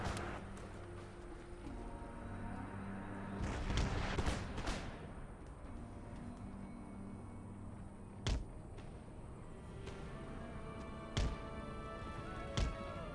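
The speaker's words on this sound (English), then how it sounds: "Oh, cannon fire." Cannon fire in the video game Empire: Total War, with booming artillery shots and a distant battle rumble, then further sharp single blasts spaced several seconds apart, fairly quiet overall.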